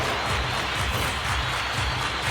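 Dense, continuous applause from a large crowd in an NHL 24 hockey video game, steady and loud with rhythmic clapping pulses throughout.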